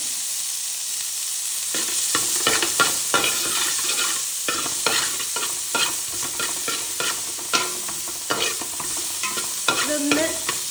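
Onions, large ones standing in for shallots, frying in ghee in a pan, with a steady close sizzle and repeated sharp scraping strokes from stirring throughout.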